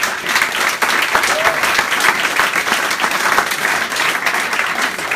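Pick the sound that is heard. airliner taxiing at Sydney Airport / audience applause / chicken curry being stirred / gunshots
audience applause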